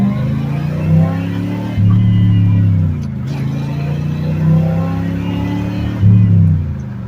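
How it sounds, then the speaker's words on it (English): A car pulls away from low speed and accelerates hard, its engine rumbling loudly up close and climbing in pitch through several shifts or surges, heard from inside while checking for bogging tied to an emissions control solenoid. "I'm gonna just get it up to a few miles per hour here and then punch it"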